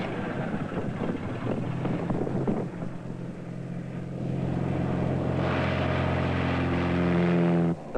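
A propeller airplane drones steadily in flight, with a low engine hum and wind rush throughout, its pitch rising into a sustained tone toward the end before cutting off abruptly.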